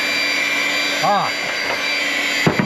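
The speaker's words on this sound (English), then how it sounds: "I think that pump kicked down in low gear." Salvaged pump motor whining steadily at a constant pitch, with a brief swooping change in tone partway through and a small clatter near the end.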